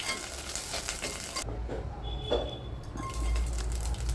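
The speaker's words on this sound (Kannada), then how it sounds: "ಈಗ ಪ್ಯಾನ್ಗೆ ಆಯಿಲ್ ಹಾಕಿ ಕರಿಬೇವು ಹಾಕಿ ಒಣಮೆಣಸಿನ್ಕಾಯಿ ಹಾಕಿ" Curry leaves and dried red chilies dropped into hot oil in a pan, a loud crackling sizzle that cuts out briefly, then returns with stirring scrapes and bubbling spatter.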